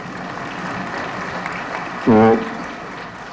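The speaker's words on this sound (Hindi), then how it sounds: "पूरे सभागार में ताली बहुत जोर से बज रही थी।" An auditorium audience at a university convocation ceremony applauds in a dense, steady wash of clapping that fills the whole stretch, while a voice briefly speaks over it near the end.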